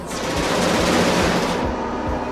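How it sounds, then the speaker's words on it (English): Rapid automatic gunfire from defense turrets shooting at aliens in the space game Genesis Alpha One, a loud continuous burst of fire that drops off near the end, with no talk. "the turrets can be really effective against most aliens"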